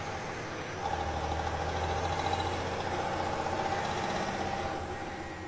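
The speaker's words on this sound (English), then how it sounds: "I heard the unmistakable sound of an engine revving up behind me." A truck engine revs behind a car at night, a steady mid-pitched drone that swells slightly and holds for several seconds at moderate loudness, with no voices.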